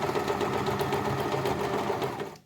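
A sewing machine stitches fabric for a homemade Easter bunny, a steady rapid mechanical whirr running close and loud for about two seconds, then stopping.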